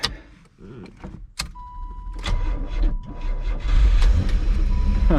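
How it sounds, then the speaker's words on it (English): A 1987 Pontiac Fiero GT engine cranks with a weak battery, a strained starter churning in uneven bursts before it catches and settles into a steady running rumble, close and loud. "It's gonna start if it has enough to crank right now"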